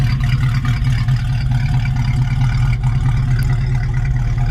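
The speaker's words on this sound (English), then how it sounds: "It's got a nice potent V8 engine in it. It really sounds nice" A 1967 Ford Mustang convertible's V8 idles loud and close, a steady deep burbling rumble with no talk over it.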